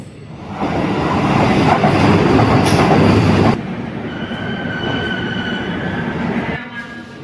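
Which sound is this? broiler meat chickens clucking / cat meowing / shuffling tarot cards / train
train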